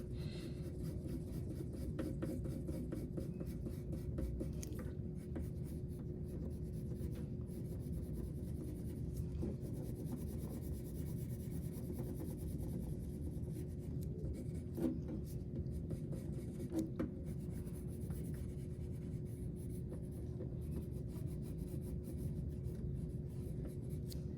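Colored pencil shading on paper, built up in slow layers toward a blank area. It makes a steady, soft, scratchy rubbing that runs continuously and close up, with no voices.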